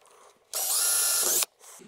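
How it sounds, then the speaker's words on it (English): A power drill with a 3/32-inch bit whirs loudly for about a second, pre-drilling a hole, starting and stopping abruptly, with quieter handling noises before and after. "Take a little bitty 3/32 drill bit and make me a"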